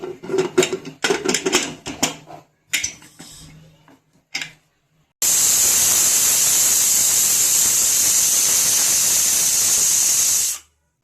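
Some brief clattering, then a loud, steady steam whistle from a pressure cooker cooking salted val (flat bean) pods that hisses continuously for about five seconds before cutting off.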